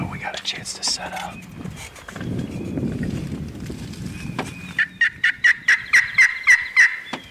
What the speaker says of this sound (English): we could hear a bird at the back end of the property about where Perry had heard one on the roost